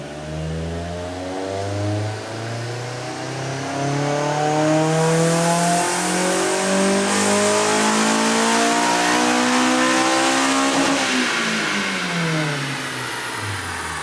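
Honda S2000 engine revving hard on a dyno, a loud sustained climb in pitch that holds near the top with a shrill high-rpm wail, then drops away as the throttle closes, with no talk over it.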